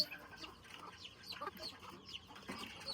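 Native chickens cluck faintly in a poultry pen, giving scattered short calls over quiet background noise.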